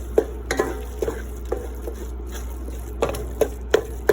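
A spoon stirs and chops a shepherd's pie mixture seasoned with Worcestershire sauce, sharp irregular scrapes and taps against the pan repeating every half second or so, close and fairly loud over a low hum.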